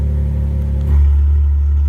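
Ferrari 812 fitted with a Capristo stainless steel straight-through exhaust starting up close by: a low idle hum swells into a loud, deep rumbling bark about halfway through, then settles into a strong steady idle.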